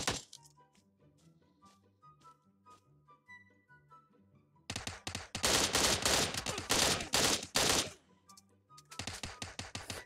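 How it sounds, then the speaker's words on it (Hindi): Bursts of rapid automatic gunfire crackle in PUBG Mobile, a dense, loud volley of shots lasting a few seconds, then a second burst after a pause, with quiet game music in between. "हर तरफ गोलियाँ चल रही हैं"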